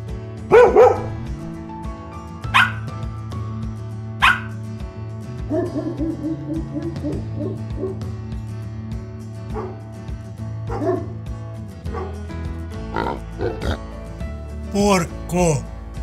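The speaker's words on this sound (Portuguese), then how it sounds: "Dog." A dog barks repeatedly in sharp, spaced woofs and higher yips, fairly close, over steady background music.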